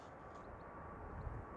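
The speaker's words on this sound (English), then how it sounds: "It's just Ryanair touching down on the other runway." Ryanair airliner landing on a distant runway at Manchester Airport, heard as a faint, steady low rumble throughout with no clear peaks.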